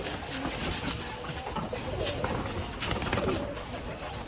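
A flock of Giribaz pigeons coos in a steady, dense chorus that fills the whole short stretch at moderate loudness, with no break in the sound.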